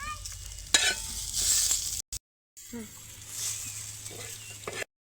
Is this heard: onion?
yes